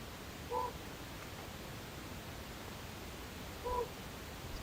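Recorded owl call, two short gruff hoarse notes about three seconds apart, faint over a soft steady background hiss.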